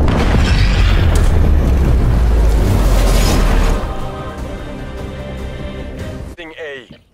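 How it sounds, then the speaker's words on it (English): An incendiary grenade explodes in the video game Call of Duty Cold War with a heavy, loud roaring blast that rumbles for several seconds, then tapers into a quieter burning hiss before a short voice breaks in at the end. "Incendiary out."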